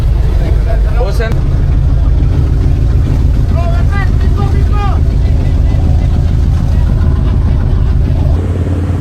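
Service boat engine at sea near Singapore, a loud steady low motor drone close by, with people talking and short whistling tones over it.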